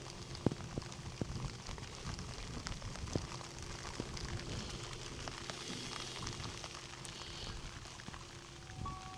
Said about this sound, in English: I guess the rain's coming from the other angle